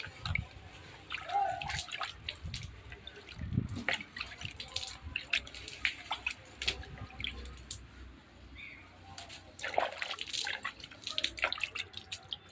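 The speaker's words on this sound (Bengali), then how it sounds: "পুরো চারিদিকে ছেটাও জল, হালকা ছেটাও, হালকা ছেটাও" Water is sprinkled lightly by hand across a rooftop where a lantern has burnt, producing scattered drips and soft splashes with intermittent rustling and faint voices in the background.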